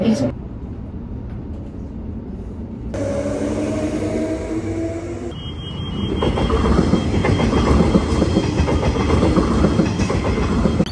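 A passenger train ride in Perth, Australia, with a steady loud rumble and clickety-clack of wheels on the rails from inside the carriage, rising slightly as the train picks up speed.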